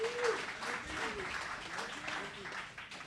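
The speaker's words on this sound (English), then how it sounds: "Round of applause for Ricky Carroll." Faint audience applause at a live surf event, soft scattered clapping with voices audible beneath it.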